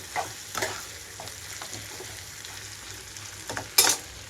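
Spicy chicken pieces fry in bubbling oil, a quiet steady sizzle with a few sharper spatters and clinks of a spoon stirring close by.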